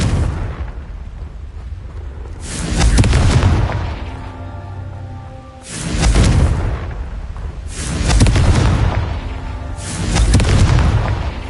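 Confringo blasting spell explosions in the wizarding game Hogwarts Legacy, four deep booming blasts at regular intervals over a low background rumble, loud with no talking.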